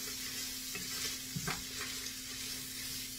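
Bacon sizzles softly and steadily in a pan, with a brief scraping stir in the middle and a low background hum.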